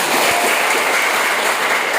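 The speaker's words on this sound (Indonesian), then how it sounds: "Oke, tepuk tangan." A classroom of students applauds together in a steady, dense wash of clapping that fills the whole moment without any talking.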